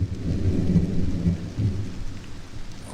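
Synthesized Omnisphere preset of steady rain with rolling thunder, a dense continuous wash of hiss and deep low rumble that swells slightly and dips midway, loud and close with no voices.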